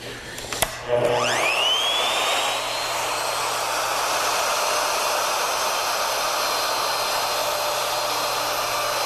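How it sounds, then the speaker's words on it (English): A plunge router with a fence-centered bit cuts a mortise into wood in shallow passes, spinning up with a rising whine and then holding a loud, steady, close high-pitched roar for the rest of the clip. "Don't overload the router by plunging too deep."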